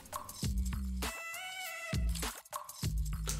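A cat meows at a streamer's home, several clear, close meows in a row with a faint clink between them.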